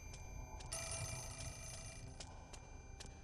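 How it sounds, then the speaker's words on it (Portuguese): A telephone rings inside the Fatal Frame 4 horror game, with repeated bright bell bursts sounding steadily over a low background drone and no talking. "Calma aí, tô indo, telefone."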